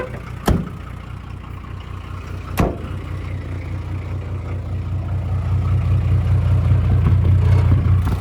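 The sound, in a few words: 1981 Datsun MQ Patrol SD33 diesel engine running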